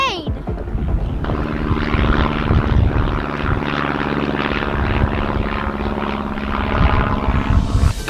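A propeller plane drones steadily overhead for several seconds, a loud continuous engine hum with a faint voice early on.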